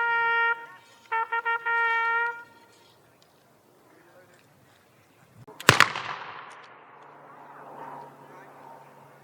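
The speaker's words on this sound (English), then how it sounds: "They're now firing and advancing" Napoleonic British infantry firing muskets while advancing in a display at the Royal Gunpowder Mills: a single sharp, loud report rings out and echoes away, preceded by brief sustained musical tones and followed by faint crowd murmur.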